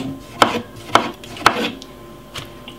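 A knife chops through tomatoes on a board in four crisp, evenly spaced cuts, close and clear with quiet pauses between strokes.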